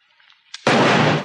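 A single loud gunshot from the film Street Fighter, a sudden close blast after a brief quiet lead-in, with a short ringing tail.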